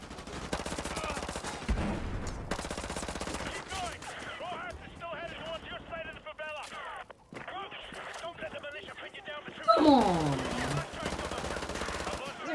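Rapid automatic gunfire crackles in bursts during a Call of Duty: Modern Warfare Remastered match, loud and close. A player talks over the shooting throughout, and a louder volley comes near the end.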